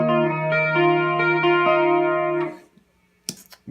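Guitar chords ring out through a light chorus effect, gently shimmering for a couple of seconds before cutting off, followed by a brief click.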